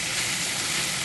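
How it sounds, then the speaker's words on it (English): Potatoes searing in a hot pan for a breakfast sausage and egg hash, giving a steady, loud, close sizzle with no break. "We want these potatoes to sear off a little bit before we add in our can of tomatoes."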